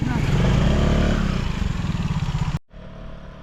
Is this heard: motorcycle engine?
yes